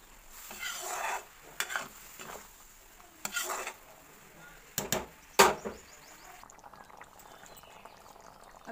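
Malai and peas cooking in a pan over a high gas flame, a soft steady sizzle and bubbling broken by several sharp clinks and scrapes of a spoon stirring against the pan.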